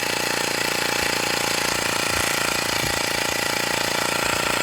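A Xiaomi wireless electric air pump runs at a loud, steady drone. The whine and motor buzz hold constant for the whole stretch, close up and alone with no talking.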